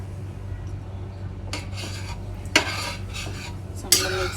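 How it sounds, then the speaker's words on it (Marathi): A spoon stirs prawn pulao rice and water in a pot, giving a few scraping, clinking strokes at irregular intervals over a low steady background hum, with no one speaking. "चांगलं मिक्स करून घ्यायचं आहे."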